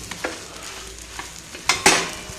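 Chapati cooking with a light drizzle of oil on an iron pan, soft sizzling broken by several short scraping presses that grow louder toward the end.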